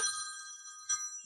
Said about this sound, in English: The phone's ringing, y'all.